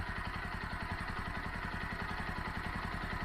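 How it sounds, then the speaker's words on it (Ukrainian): A motorcycle engine idles steadily and close by, a smooth, even low chugging with no surges or stumbles throughout. "Послухайте, яка робота мотора."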